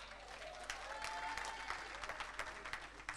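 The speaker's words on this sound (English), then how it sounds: "Round of applause, ladies and gentlemen." An audience at a children's talent show applauds, a thick, even spatter of many hands clapping, heard at a distance and fairly quiet, with a few sharper claps popping out near the end.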